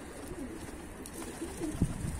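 A bird calls outdoors with a few soft, low coos that rise briefly out of steady background noise, the last one slightly louder.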